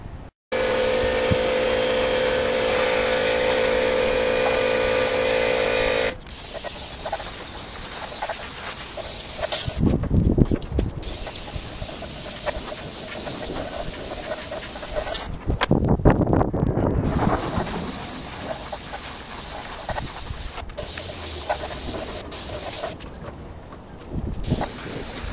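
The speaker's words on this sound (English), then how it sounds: "the combination of the airbrush and fine-tuning the paint" An airbrush hisses steadily while paint goes onto a motorcycle wheel during a cafe racer restoration, a continuous spray broken by short pauses and bursts of wind-like noise.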